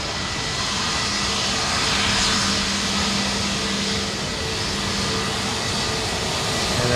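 An Airbus A320neo takes off from Sydney Airport, its jet engines a sustained, even roar with a faint tonal whine, staying loud and steady from start to end.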